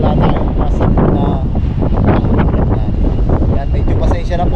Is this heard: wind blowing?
yes